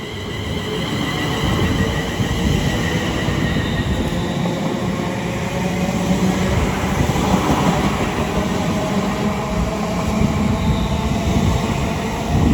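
Two coupled Class 350 electric units, 350 103 leading and 350 256 on the rear, run into Watford Junction with a continuous loud rumble, rail hum and faint wheel noise sustained throughout.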